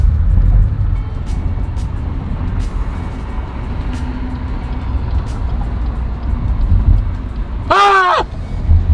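Car interior while driving: a steady low road rumble and engine drone throughout, with a sharp tonal horn-like blare near the end and no clear talk.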